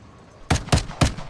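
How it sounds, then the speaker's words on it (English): Three loud, sharp gunshots crack out at evenly spaced intervals, fired from the air in the Warzone Mobile battle royale game, set in Verdansk, each blast followed by a brief ringing decay over quiet game ambience. "Shooting from the air."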